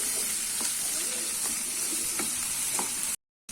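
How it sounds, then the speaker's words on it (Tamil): Small chopped tomato with turmeric sautéing in a pan for poha upma gives a close, continuous sizzle broken by light stirring scrapes, then a brief silence near the end. "இது லைட்டா வதக்கிக்கலாம்."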